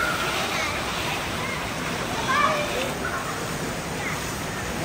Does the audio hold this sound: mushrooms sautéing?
no